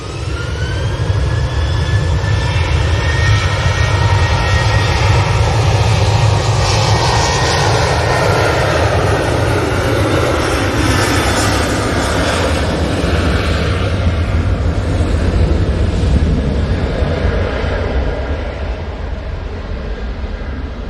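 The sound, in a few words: TUI Fly airliner jet engines at Manchester Airport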